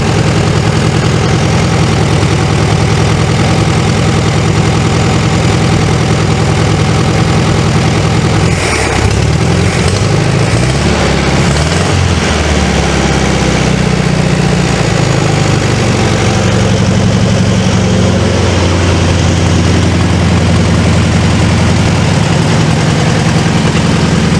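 A 1973 Volkswagen Beetle engine runs loudly and steadily at idle, close up, with a rough low drone that wavers and shifts pitch midway through.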